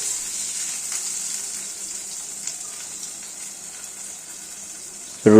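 Rui fish paturi wrapped in bottle gourd leaves frying in a pan, a soft continuous sizzle throughout, with a sudden louder clatter right at the end.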